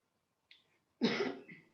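A single quiet cough, preceded by a short faint breath, close and isolated against silence.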